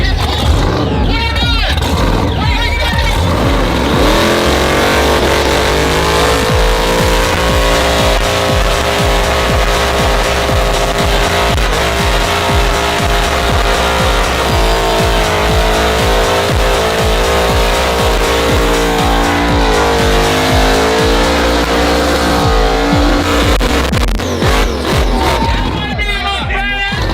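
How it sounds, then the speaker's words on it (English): A truck doing a burnout, its engine roaring hard and steady while the tires squeal for nearly the whole stretch, loud and close, with a crowd and voices mixed underneath. "For one, Zach did a burnout while standing outside of his freaking truck"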